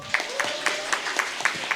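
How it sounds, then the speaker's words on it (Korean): Steady rhythmic hand clapping from a symposium audience, evenly spaced claps about four per second, fairly close with a murmur beneath. "앞에 계신 분들께 더 큰 박수를 쳐드려야지."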